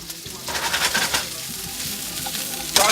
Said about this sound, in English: I got a pan nice and hot, a little bit of oil in there. Grab your onions, drop those bad boy.